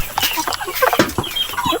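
Chickens cluck close by in a series of short, choppy bursts, loud and busy, with large hens among the flock.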